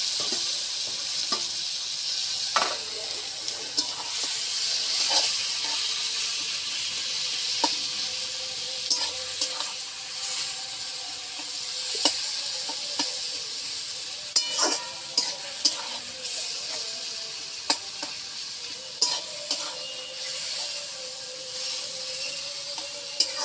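Taro leaves fry in a hot pan under a continuous hissing sizzle, while a utensil stirs and scrapes them with repeated clicks and knocks. The sound stays close and steady throughout, and no one talks.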